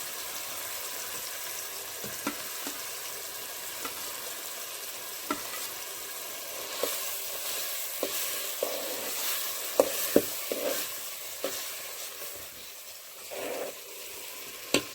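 Bread pakoda sizzles in hot oil with a steady, crackling hiss that runs throughout. Occasional clicks and pops rise above the fry, and there is no talking.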